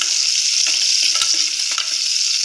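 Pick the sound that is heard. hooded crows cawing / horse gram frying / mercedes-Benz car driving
horse gram frying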